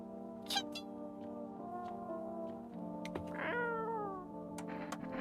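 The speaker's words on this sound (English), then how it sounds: "I'm gonna go pet Kitty" A cat meows faintly a couple of times over a steady electronic hum, with small clicks nearby.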